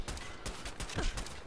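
Rapid bursts of gunfire in a firefight in Fallout 4, several sharp shots in an uneven rhythm, fairly quiet and with no talk over them.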